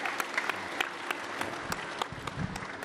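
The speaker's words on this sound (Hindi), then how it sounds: "चलो एक बार जोरदार तालियां हो जाए" Audience applause at a yoga and Ayurveda gathering, a steady patter of many hands clapping at moderate distance, continuous and even throughout with sharp individual claps standing out.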